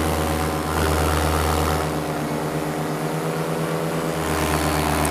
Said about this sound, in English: Let's do a flyby past Clint